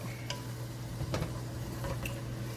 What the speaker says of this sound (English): now we're gonna saute this up